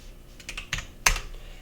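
Typing Linux shell commands on a computer keyboard: a quick run of crisp key clicks, close and clear, with a couple of louder strikes near the end and no talking.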